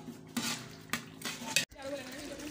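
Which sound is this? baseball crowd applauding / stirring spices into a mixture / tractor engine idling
stirring spices into a mixture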